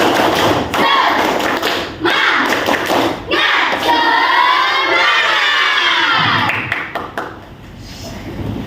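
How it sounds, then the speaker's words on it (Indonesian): A class of Indonesian primary school children claps through a rhythmic routine, sharp claps falling in quick bursts amid loud group chanting and shouting, close and lively in a classroom. "Tepuk satu, tepuk satu, tepuk dua, tepuk tiga, tepuk semangat."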